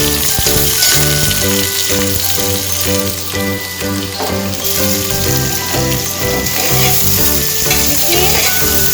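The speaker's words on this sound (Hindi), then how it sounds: "दरदरे कूटे हुए खड़े मसाले डाल रही हूँ, इन्हें अच्छे तरीके से लाल होने देंगे।" Coarsely crushed whole spices fry in a small amount of hot oil with loud, close crackling and popping, while steady stirring scrapes run underneath the whole time.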